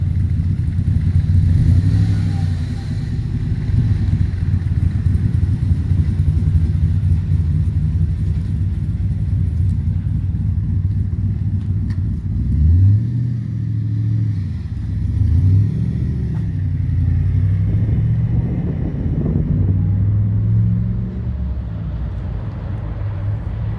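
A 1963 Corvette's engine drives by with a steady, loud low rumble, rising and falling slightly as it revs, and with no talking.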